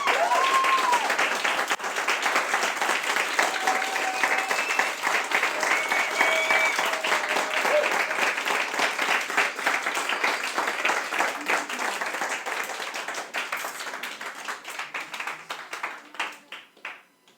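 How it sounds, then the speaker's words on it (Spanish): A church congregation claps for the King of Kings during a Spanish-language worship service. The applause is loud and sustained for about seventeen seconds, with a few faint voices rising inside it, and it thins out and fades at the end. "Dale un aplauso al Rey de Reyes."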